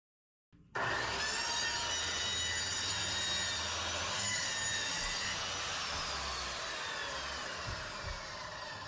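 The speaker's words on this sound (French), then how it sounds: "Pour découper les plaques, j'utilise une scie circulaire plongeante." A plunge circular saw starts up after a brief silence and cuts panels steadily for several seconds, a loud continuous whine with a rough grinding edge.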